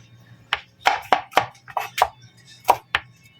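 Garlic being chopped with a knife on a cutting board in a home kitchen, about nine crisp, sharp knocks at an irregular pace, close and clear over a low background hum.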